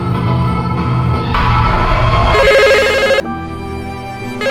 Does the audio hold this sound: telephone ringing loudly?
yes